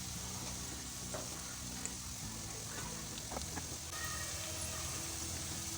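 Potatoes fry in a pan with a steady, dense sizzle that holds through the whole stretch. A few faint clinks and stirring touches break through now and then, and a voice murmurs quietly underneath.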